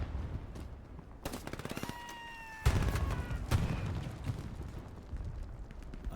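Gunfire in a competitive Hell Let Loose match on the new Stalingrad map: scattered sharp bursts and a heavier boom crack out over background battle noise, with a thin whistling tone in between.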